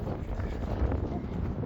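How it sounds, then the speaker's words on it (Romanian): Wind blowing outdoors on a cold day, a steady broadband rumble buffeting the microphone for the whole stretch, loud and close with no clear talk. "Cam bate vântul"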